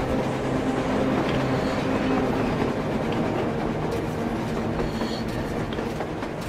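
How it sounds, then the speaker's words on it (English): Train rolling along rails in the video game Metro Exodus, on the Moscow surface in winter, a steady loud rumble with faint rhythmic clatter running throughout, no voices. "A train! A damn train on the surface!"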